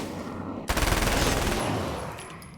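A flashbang detonates in the video game Alan Wake's American Nightmare: a sudden loud burst followed by a dense, crackling roar that lingers for about a second before slowly fading, with a thin high ringing tone trailing behind.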